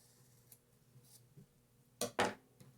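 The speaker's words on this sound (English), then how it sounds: "we're going to cut in the middle of each tie." Scissors snip through the ties of a Halloween garland, making two sharp, close cuts in quick succession after a few faint ticks and rustles in a quiet room.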